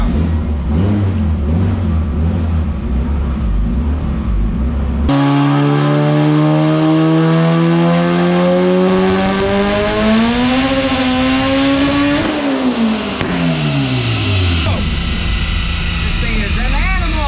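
Boosted high-horsepower car engine on a dyno, loud throughout: idling and rumbling at first, then a long rising rev pull climbing steadily before dropping off and revving again, with voices underneath.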